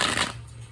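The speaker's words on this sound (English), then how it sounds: "I'm going to go ahead and begin shuffling." A deck of Cosmic Tarot cards is shuffled by hand in a short, crisp burst of riffling that fades after about a third of a second, leaving a low steady hum underneath.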